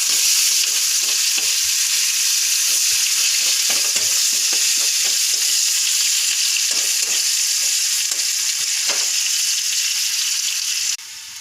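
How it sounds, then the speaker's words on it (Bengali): Onions frying in oil with black cumin and mustard seeds in a pan: a steady loud sizzle throughout, broken by scraping stirring strokes, fading slightly at the end, with no talking. "পেঁয়াজটা ভাজা ভাজা হলো,"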